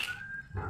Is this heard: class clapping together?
no